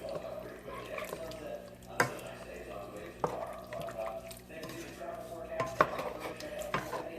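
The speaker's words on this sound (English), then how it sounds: "I'm just going to stir this up." A spoon stirs chicken noodle soup in a pot, with soft liquid sloshing and several sharp clinks of metal against the pot rim, fairly quiet and close.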